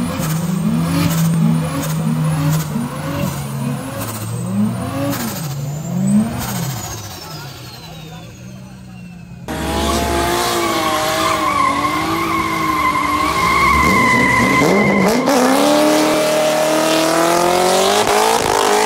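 Car accelerating hard and skidding during stunt maneuvers at Interlagos, loud engine revs rising and falling in repeated bursts, then a sustained high-pitched screeching tire skid with roaring engine.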